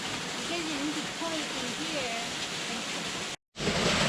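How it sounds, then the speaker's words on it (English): Little Box Canyon waterfall in the Dakotas, a steady broadband rush of falling water heard from a short distance, with a voice briefly speaking over it and a momentary dropout near the end. "Little Box Canyon waterfall."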